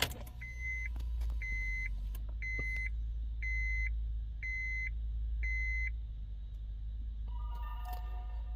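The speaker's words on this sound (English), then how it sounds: "Turn ignition on." A Honda's ignition is switched on during immobilizer key programming: six evenly spaced electronic chime beeps sound over a steady low hum, followed by a brief whirring rise near the end.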